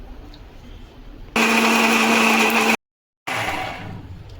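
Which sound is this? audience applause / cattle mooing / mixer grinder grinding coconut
mixer grinder grinding coconut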